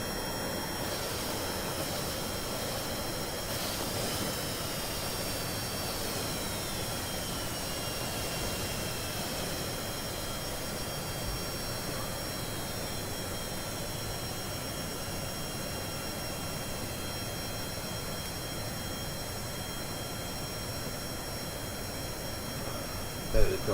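Jet fighter aircraft flying in Kerbal Space Program with BD Armory, a steady whining engine roar with faint high tones sliding across it, fairly quiet throughout with a brief louder burst at the very end.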